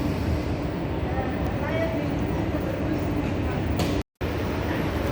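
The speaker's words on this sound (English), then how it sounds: "That is the inner city train." An inner city train at Delft station gives a steady low rumble and rolling noise close by, continuous apart from a brief cut near the end, with a voice talking over it.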